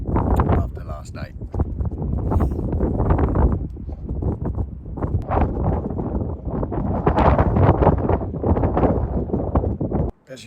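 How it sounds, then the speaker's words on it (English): Strong wind gusting and buffeting outside a cave at a campsite, a loud continuous roar with rustling and microphone buffeting throughout, ending abruptly near the end. "As you could probably hear, the wind is just whipping out there."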